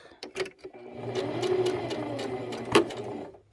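A sewing machine stitches a ribbon skirt pocket with a steady mechanical whir lasting a few seconds, preceded by a couple of sharp clicks and a distinct clunk near the end as the stitching stops.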